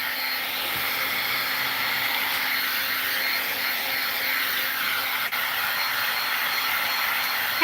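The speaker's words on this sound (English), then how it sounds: "you can add heat with your heat tool because it gets really hot, your heat tool" A crafting heat tool blowing hot air, a steady close whooshing hiss with a faint motor hum that holds unchanged throughout, briefly cut near the end.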